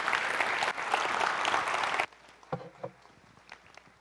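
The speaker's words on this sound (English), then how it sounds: "big round of applause for Dylan then." A burst of loud clapping from an audience for about two seconds, then it abruptly drops off, leaving quiet room sounds.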